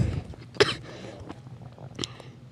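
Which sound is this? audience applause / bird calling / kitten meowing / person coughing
person coughing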